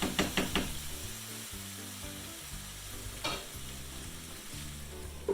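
Potatoes fry steadily in a hot pan for home-style fried potatoes, with a few wooden scraping stirs at the start and a constant crackling hiss throughout.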